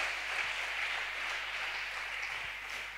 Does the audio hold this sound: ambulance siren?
no